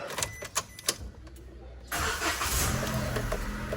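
A few clicks and a brief crank, then a car engine catches and settles into a steady idle rumble close by.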